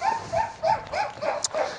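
A dog at an animal shelter lets out a string of short, high yelping barks and whimpers, close and fairly loud, in quick uneven succession.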